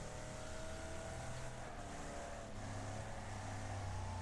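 Race car engines from the Wreckfest racing game drone steadily and loudly throughout a short stretch of an online race, a continuous roar with slight shifts in pitch and no speech.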